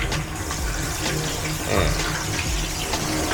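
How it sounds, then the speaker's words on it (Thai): Water rinsing out the tub of a washing machine during cleaning, a steady loud gush of running water, close, with no clear talk. "ล้างน้ำไปก่อนนะ"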